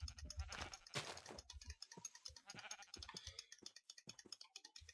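Sheep bleat loudly in a survival video game, two or three drawn-out calls up front followed by sparse clicks and keyboard typing.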